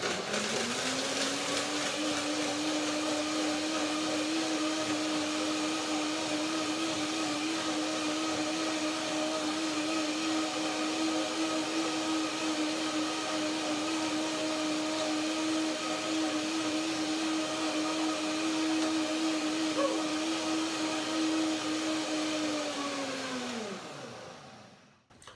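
A blender runs steadily on a mulberry and almond cream dressing, a loud continuous motor whine holding for about 23 seconds before winding down and stopping at the end.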